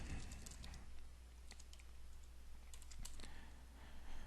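Steady typing on a computer keyboard while writing a PowerShell script, quick irregular key clicks in bursts, close and fairly quiet, no talking.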